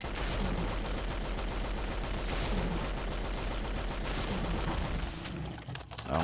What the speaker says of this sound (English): we'll be using the base version of the Lewis gun